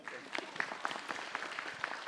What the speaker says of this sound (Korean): 네, 박수 주세요.